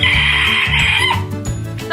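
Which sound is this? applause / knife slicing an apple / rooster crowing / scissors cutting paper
rooster crowing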